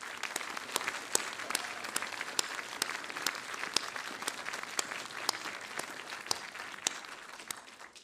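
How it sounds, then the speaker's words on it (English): Applause from the audience at a British Skydiving AGM and awards gathering, a steady, even patter of many hands clapping with distinct sharp claps standing out, heard at a moderate distance and fairly quiet. "I would just ask you to clap once more for Tash"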